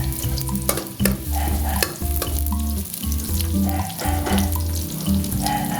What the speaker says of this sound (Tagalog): Tayo nagigisa muna.